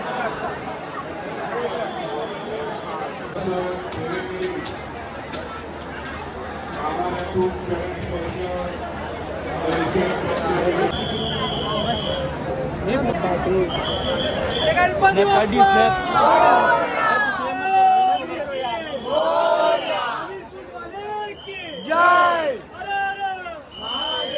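A dense crowd fills a Mumbai Ganpati pandal queue with steady babble and chatter, people talking close by throughout, the hubbub swelling louder toward the end.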